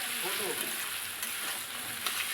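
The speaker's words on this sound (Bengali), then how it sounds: "ভালো করে একটু পেঁয়াজগুলো নেড়ে নিতে হবে" Onions frying in a pan for chicken rezala are stirred, giving a steady close sizzle with faint scraping movements and no voices.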